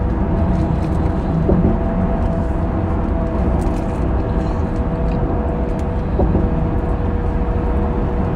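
Car cruising on a highway at about 70 mph, a constant loud road and engine drone with tire rumble and no break, heard from inside the cabin without talk.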